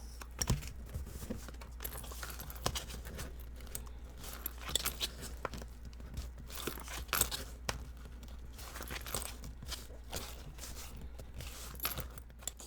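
Soft paper crinkles and light clicks as the flaps of a Dollar Tree notebook are folded over during a DIY traveler's notebook craft, scattered and quiet with no talking.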